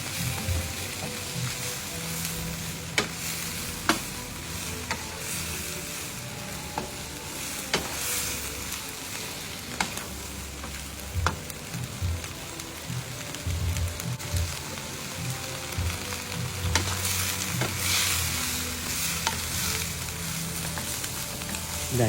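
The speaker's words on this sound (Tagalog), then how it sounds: "At ito ay halu-haluin lang para hindi masunog ang ating niluluto." Beef and vegetables sizzle steadily in a pan for a stir fry while a utensil stirs them, with occasional sharp scrapes and taps over the constant frying hiss.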